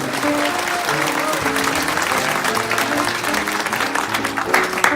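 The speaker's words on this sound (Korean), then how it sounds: "한 박수 부탁드리겠습니다" Dense, steady audience applause at a general assembly of a national parcel-delivery agency cooperative, with some voices heard through the clapping.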